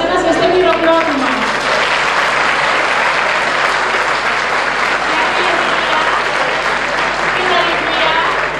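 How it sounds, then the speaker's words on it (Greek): A crowd at a dance school's New Year pie-cutting celebration in Nea Fantasia claps warmly in a loud, dense, sustained wash of applause, with a voice briefly audible at the start. "ένα ζεστό χειροκρότημα"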